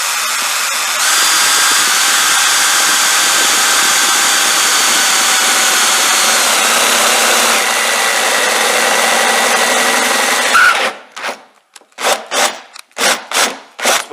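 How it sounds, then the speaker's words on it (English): A power drill runs steadily and loudly close up as it bores into a Land Rover Defender's body panel, then stops and gives way to several short bursts of scraping or filing. "I'll probably drill a hole there"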